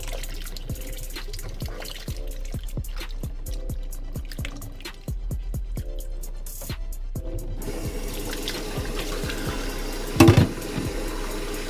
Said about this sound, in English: And now we're gonna wash the shrimp